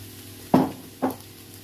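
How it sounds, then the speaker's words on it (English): Minced meat mixed with tomato puree scraped around a sizzling frying pan for a cottage pie, two short stirring strokes about half a second apart over a faint background hiss. "Give this a stir, get this all mixed together."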